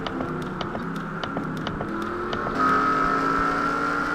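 Simulated race cars in a 2003 INORL Coke Vanilla Cup Series chase race at New Hampshire drone past as a steady engine roar, with evenly spaced ticks over the top and a brief louder surge near the end.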